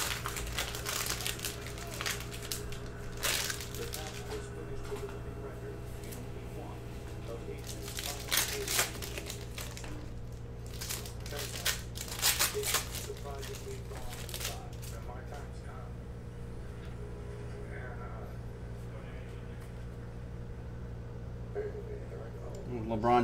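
A pack of 2019-20 Panini Mosaic basketball cards is ripped open and handled, with crinkling wrapper and shuffling card sounds at close range under ongoing talk and a steady background hum.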